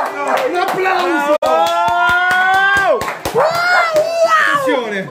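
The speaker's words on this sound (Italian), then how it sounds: "Un applauso!" A live podcast audience applauds and cheers for a performer, dense clapping mixed with crowd noise under a sustained shouted voice and whistle-like tones, loud and close throughout.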